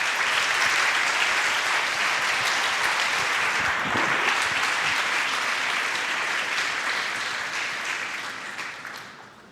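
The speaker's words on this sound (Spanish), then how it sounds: "Vamos a darle un aplauso al Señor." A church congregation breaks into sustained applause, dense and steady throughout before tapering off near the end; no voices stand out over the clapping.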